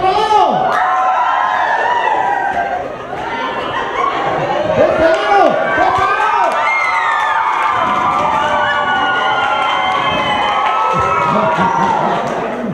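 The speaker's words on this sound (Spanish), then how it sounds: "Aplausos, gritos y desgreñadero." A children's audience at a clown show cheers, shouts and whoops loudly, with a crowded mix of high excited voices and chatter rising and dipping across the whole stretch.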